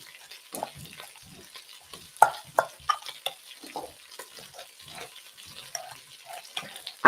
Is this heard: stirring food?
yes